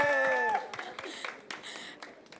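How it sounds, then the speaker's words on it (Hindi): An audience at a TV show launch event claps after a held musical tone fades, a short round of scattered, moderately loud clapping that quickly thins out. "पहले हम ताली बजा देते तुम्हारे लिए."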